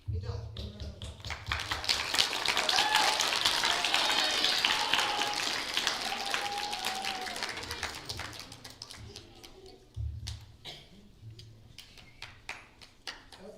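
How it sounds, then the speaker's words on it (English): An audience applauds a spelling bee contestant in a school hall, a dense burst of clapping that swells for several seconds and then thins to scattered claps and taps, with a voice speaking at the end. "Give her a round of applause."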